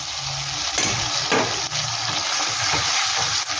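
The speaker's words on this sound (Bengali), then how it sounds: "এটা একটু ভালো করে আমি ভেজে নিচ্ছি।" A paste of ginger, green chilli, poppy seed and cashew sizzles steadily in hot oil, a continuous close hiss with occasional stirring scrapes in the pan.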